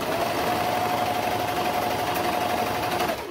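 A serger stitches a curved seam on leggings fabric, its steady fast whir running loud and close for about three seconds with no pauses.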